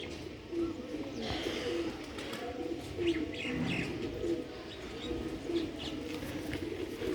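A pair of Sialkoti quail call in winter with repeated short rhythmic notes over steady background noise, with no talking.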